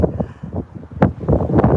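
Strong, cold wind blows outdoors in a snowy, icy setting, gusting in uneven surges that buffet the microphone with loud, rumbling bursts, and no one speaks.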